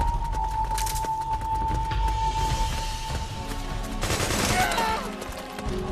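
Gunfire in Metal Gear Solid 4 in a village setting, bursts of rifle fire rattling across the clip with a steady tone behind and a loud burst near the end.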